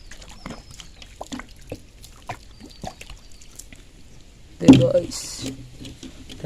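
Water poured over a dirty, lather-covered vehicle tyre to rinse it, a short splashing gush in the middle after scattered quiet clicks and handling noises, ending with a softer trickle.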